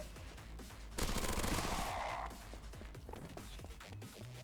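Enemies bursting apart in a video game, a sudden crackling rattle of blasts lasting about a second, followed by scattered smaller pops and clatter at a low, distant level.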